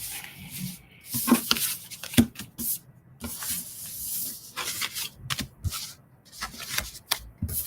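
Tarot cards being taken out and handled close by, with soft papery slides, rubs and quick flicks that come in irregular bursts and no talking.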